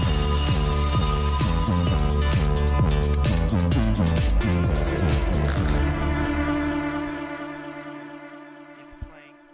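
A hard, pounding bass line section from a dance music mix, thick and loud with a driving pulse, thinning out into a sparser sustained tail over the last few seconds.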